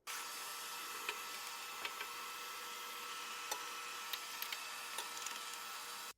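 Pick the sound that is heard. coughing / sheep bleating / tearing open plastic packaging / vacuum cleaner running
vacuum cleaner running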